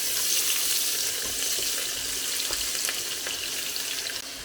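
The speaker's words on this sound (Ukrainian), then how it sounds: "І тепер в цій же олії ароматної та смачної ми будемо смажити цибулю" Steady, crackling sizzle of onion frying in hot oil, with small pops scattered through a constant hiss, close up and fairly quiet.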